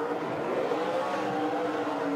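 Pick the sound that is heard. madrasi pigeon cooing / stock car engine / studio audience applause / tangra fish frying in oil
stock car engine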